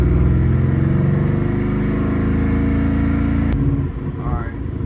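A Ford Mustang tuned for E85 fuel holds a steady high rev during a tuning test, its loud, even engine drone sustained close by before dropping back toward idle, with a voice speaking over it.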